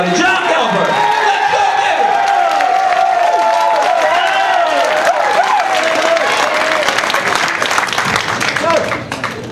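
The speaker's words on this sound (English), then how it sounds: "Everybody's clapping" A comedy-club crowd at Carolines claps and cheers as a stand-up comic takes the stage: loud, close applause with whoops and shouting voices mixed in, thinning toward the end.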